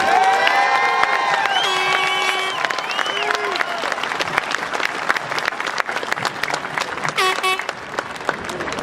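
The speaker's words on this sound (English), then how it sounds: "One more round of applause." Graduation crowd at a 2016 high school ceremony breaking into loud, sustained applause with cheers and whoops, a dense wash of clapping from a large audience.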